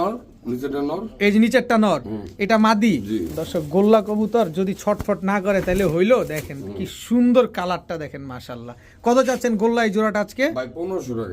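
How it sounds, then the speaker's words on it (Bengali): Golla pigeons offered for sale coo steadily at close range, their soft calls mixed in with someone talking over them throughout. "এই যে গোল্লা কবুতরগুলো ইসমাইল ভাই নিয়ে আসছে"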